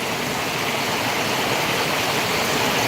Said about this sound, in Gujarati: આખી સોસાયટીમાંથી પાણી ભરી ભરી નીકળી ગયું